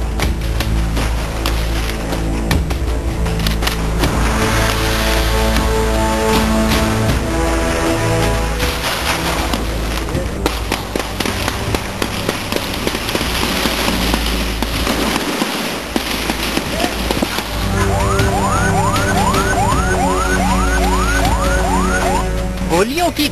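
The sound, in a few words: gunfire and hand grenade explosions in street violence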